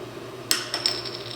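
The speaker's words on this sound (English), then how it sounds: "I'm going to flip this bottle cap" Bottle cap flipped onto a table, landing with a sharp metallic clink followed by a couple of smaller bounces and a rattle.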